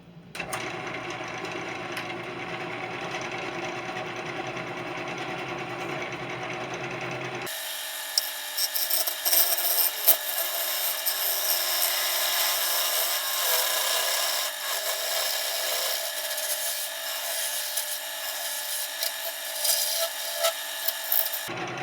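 A sharpened gouge cuts into a large live-edge cherry wood bowl spinning on a lathe, giving a steady, hissing scrape with uneven rough bursts, close and continuous.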